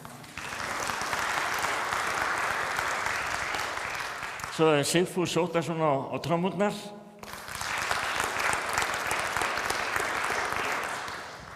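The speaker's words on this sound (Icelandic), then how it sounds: "Það má klappa fyrir honum." Church audience at an Icelandic country-music mass applauds the band members, a broad steady wash of clapping that pauses while a voice introduces the drummer, then resumes just as full.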